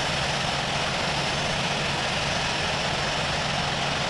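Airbus A321 engines idle while taxiing in the Infinite Flight video game, a steady broadband jet roar with a low rumble, constant and loud with no change throughout.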